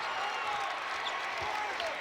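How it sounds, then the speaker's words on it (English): A basketball arena crowd at a college game between Appalachian State and NC State cheers and applauds in a dense, steady roar that fills the whole short stretch. "And you know the crowd loves it."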